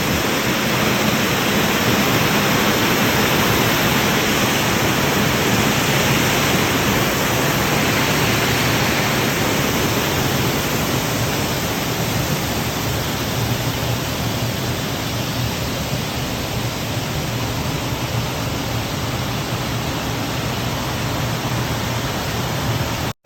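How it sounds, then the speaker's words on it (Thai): Water pouring steadily over a weir at Whatcom Falls, a loud, constant broadband rush with no break throughout. "น้ำไหลลงมาทีนี้"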